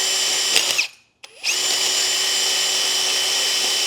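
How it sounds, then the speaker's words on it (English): Power drill bores a hole through a differential housing to fit an E Locker, a steady loud whine that briefly cuts out, then restarts and runs on evenly. "So it's time to drill this."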